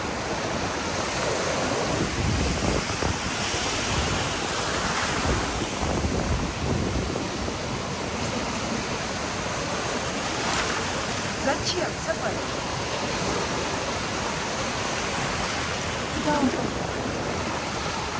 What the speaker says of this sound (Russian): Я хотел именно такие волны снять.